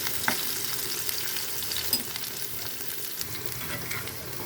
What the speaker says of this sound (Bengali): লাল লাল করে ভেজে নিব পেঁয়াজ কুচিগুলো আর কাঁচামরিচটা।